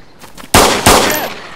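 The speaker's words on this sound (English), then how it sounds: "I'm shooting off so many times." Two loud, close gunshots in the DayZ Standalone video game, sharp cracks in quick succession with a brief ringing tail after each.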